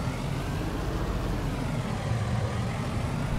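A V8 pickup truck engine in Farming Simulator 19 drones steadily while driving, a continuous dense rumble with strong low-end throughout and no talk over it.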